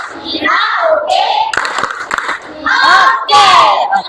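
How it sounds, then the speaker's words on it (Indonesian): Children in a primary school classroom doing a rhythmic clapping chant for two classmates, loud shouted group chanting punctuated by sharp claps, close and lively. "Kita beri tepuk oke dulu buat Janet dengan si Atira."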